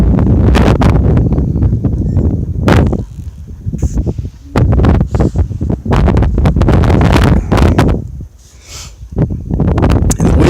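Gusting outdoor wind buffets a microphone with loud low rumbling bursts that rise and fade in waves, briefly dropping to quieter lulls.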